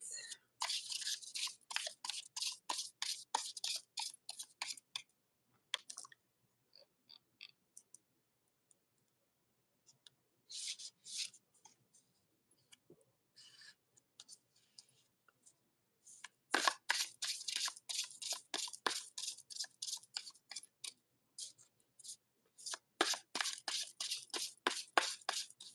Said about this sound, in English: This deck shuffles so good.